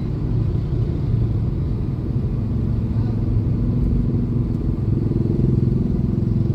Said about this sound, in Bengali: সবাই রাস্তায় বাইক নিয়েই যায়